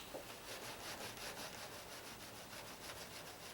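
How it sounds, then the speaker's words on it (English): A clay bar is rubbed by hand over the paint of a 1994 Chevy C10 pickup, making a faint, steady gritty rasp that swells and fades in quick back-and-forth strokes, close and alone without talk. "Take your clay bar, just up there with your fingers, and rub it."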